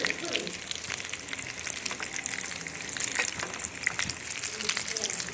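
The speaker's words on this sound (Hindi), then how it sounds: "ये देखिए हमारे बिल्कुल हो चुके हैं रोल फ्राई" Chicken macaroni rolls frying in hot oil, a dense close crackling sizzle with scattered pops that stays steady throughout.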